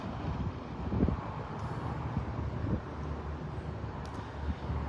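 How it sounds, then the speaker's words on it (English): Strong wind on a gusty day during a wildfire, buffeting the microphone with low rumbling gusts and irregular surges, fairly loud and continuous with no talk. "It has been very windy today."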